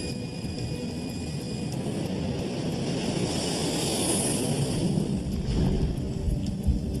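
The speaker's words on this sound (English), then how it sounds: "Copa Airlines Flight 201 takes off for a short flight to Cali, Colombia." A Copa Airlines jet airliner takes off from Tocumen International Airport in Panama City, its engines producing a broad, sustained roar that swells slightly toward the end.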